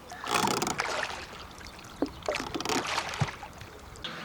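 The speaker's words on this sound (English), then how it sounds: "So Jim is doing the rowing thing." Oars dip and splash as a small boat is rowed through shallow water at low tide in Bahia Concepcion, Sea of Cortez, giving irregular nearby splashes and water swishes.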